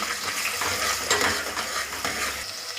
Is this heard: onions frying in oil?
yes